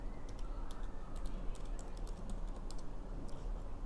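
Quiet, rapid keystrokes of code being typed on a computer keyboard during a Python lesson, a steady patter of light clicks over a low background hum.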